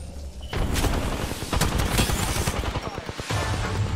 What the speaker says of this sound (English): where are we getting shot from now?